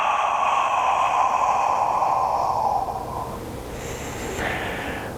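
A single long, breathy exhale, steady and close, tapering off about halfway through before a softer breath follows, with no talking.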